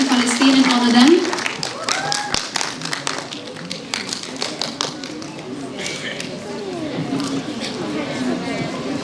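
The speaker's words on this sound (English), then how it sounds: "Can we please have a round of applause, ladies and gentlemen?" Audience applause at a scholarship award ceremony, scattered clapping under speech and shuffling, with occasional sharp taps and a thump partway through.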